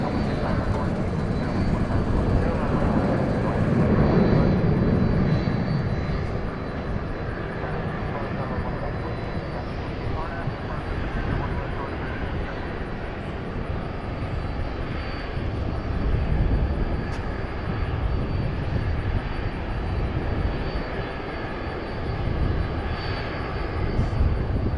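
CRJ regional jet at a busy airport, a broad continuous engine roar that swells slightly and persists throughout, heard from a distance with steady background rumble.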